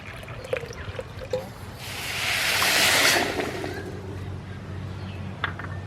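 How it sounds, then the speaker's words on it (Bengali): Water poured into a bowl of sugar with split cardamom pods, a steady splashing trickle that swells for about a second in the middle, with faint kitchen clatter around it. "যতটা চিনি দিয়েছি ততটাই জল দিয়ে দেব"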